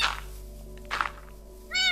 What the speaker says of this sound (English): Oh, I'm gonna have so many cats.